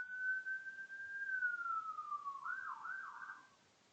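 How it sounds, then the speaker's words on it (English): A single wailing siren sweeps past at a distance, holding one long tone before dropping and warbling, then fading out. "just to let the sirens pass"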